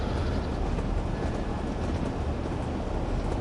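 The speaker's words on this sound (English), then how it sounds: "the rhythm of the axles hitting the joins" A diesel train in Train Sim World coasts with its power turned down, giving a loud, steady rumble of wheels on rail with faint rhythmic knocks as the axles cross the rail joins.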